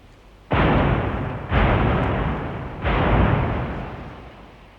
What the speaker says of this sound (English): French galleons, driven by oars, bombarded the Great Harry, which led the English fleet